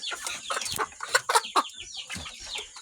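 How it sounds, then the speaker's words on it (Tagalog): A trapped hen clucks in a burst of rapid, agitated calls, loud and close, with several sharp squawks near the middle and quieter clucking afterward. "So ayun, may naipit tayong manok."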